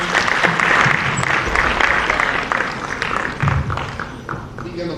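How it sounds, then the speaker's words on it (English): A conference audience applauds after a speech on peace, with dense, steady clapping that stays loud for the full stretch and a few heavier thumps and voices mixed in. "Big round of applause again."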